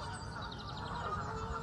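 Geese honk repeatedly on a pool in a busy, overlapping chorus, fairly close, with a steady background wash of water or wind.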